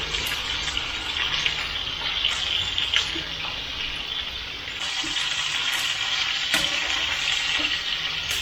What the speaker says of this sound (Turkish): Şöyle bunları kızartalım.